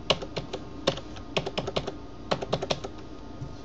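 A password is typed on a computer keyboard in short irregular bursts of crisp key clicks, close and fairly quiet, with brief pauses between groups of strokes.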